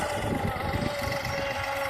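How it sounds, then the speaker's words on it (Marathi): Tractor engine running in a field, a continuous low throbbing rumble with a steady mid-pitched whine, heard close and fairly loud. "ट्रॅक्टर असा चालतो बघा."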